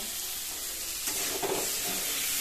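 Turmeric spice paste frying for a fish curry with poppy seed, a loud, continuous close sizzle that swells with a brief stirring scrape midway, no voices.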